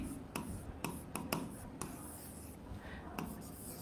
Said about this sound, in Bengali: তাহলে এইখানে আমি একটা নোট লিখে রাখি